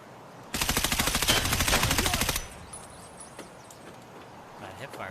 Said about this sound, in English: That hipfire was horrible